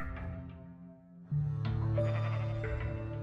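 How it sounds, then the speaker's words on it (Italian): Sheep bleating in the Minecraft video game, version 1.12.2: a soft wavering bleat fades, then a louder, sustained, nasal bleat follows close up, with no speech over it. "Adesso magari ne faccio sentire uno delle pecore come si dovrebbe sentire"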